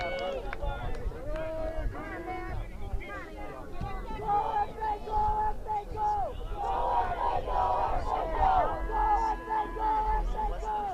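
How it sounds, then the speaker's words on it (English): A crowd cheers and shouts at a girls' varsity soccer championship game, a continuous mix of excited voices and calls throughout, with people talking over it. "Crowd approves for Fort Ann."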